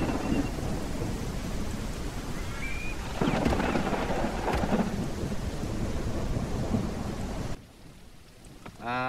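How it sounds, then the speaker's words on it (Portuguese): A thunderstorm in the survival video game No One Survived: steady heavy rain with rolling thunder bursts, loud and continuous, cutting off abruptly near the end into quieter ambience. "Acordamos debaixo do temporal"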